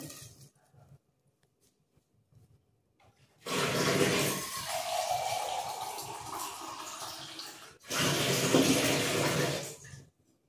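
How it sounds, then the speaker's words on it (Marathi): Two bursts of water pouring from a vessel into a pot for mutton soup, a long pour followed after a brief break by a shorter one, close and fairly loud, with quiet handling before. "यात आपण 2 तांबे पाणी ॲड करणार आहोत"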